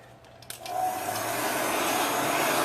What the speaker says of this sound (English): I'm going to dry this with my heat gun,